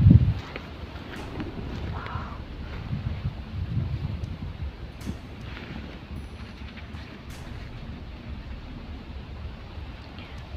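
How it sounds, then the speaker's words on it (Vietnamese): Wind blows outdoors in a steady low rumble against the microphone, gusting hardest at the very start and then settling into a continuous buffeting roar with faint rustling, and no talking. "ngoài trời gió này."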